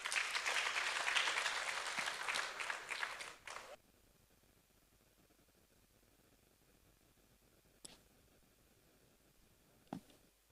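An audience applauds for a school at an event, a dense burst of clapping lasting a few seconds before cutting off, followed by quiet with two isolated knocks.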